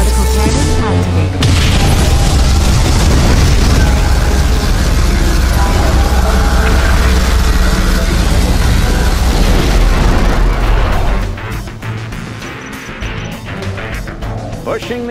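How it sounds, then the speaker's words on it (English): A particle cannon blast from the real-time strategy game Command & Conquer: Red Alert 3, a loud, sustained booming explosion lasting about eleven seconds before easing into a lower rumble, with game announcer voices around it. "Particle cannon activated."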